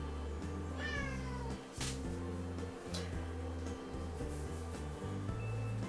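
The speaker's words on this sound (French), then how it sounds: "mon chat faisait un peu des siennes" A house cat meows a couple of times, a short rising cry near the start, over a loud steady mechanical hum from a kitchen appliance, with no talking.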